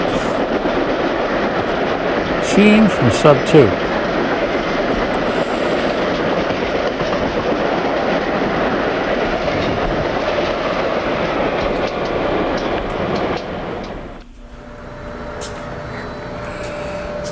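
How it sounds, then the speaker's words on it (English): A Long Island Rail Road train flies past with a loud roar and clattering wheels, briefly joined by a short squeal, then the noise drops away abruptly near the end. A voice speaks briefly early on. "Flyby, Long Island Railroad."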